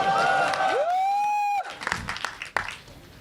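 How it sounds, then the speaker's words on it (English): Crowd at a Mumbai trailer launch event for the film Martin erupts into cheering and applause after a rising, sustained electronic tone; the clapping and shouts are loud, uneven and close. "The loudest round of applause."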